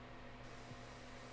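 Paint spraying onto a background to build a dark-to-light fade, a steady close hiss that runs unbroken from start to finish with no talk over it.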